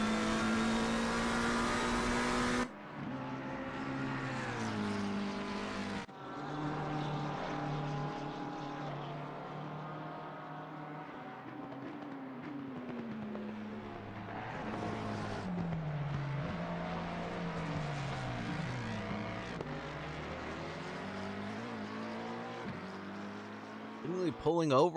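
A Mustang race car in Assetto Corsa Competizione at Monza drones steadily with a sustained engine tone, pitch rising and falling through gear changes as other cars pass. A commentator talks over it throughout.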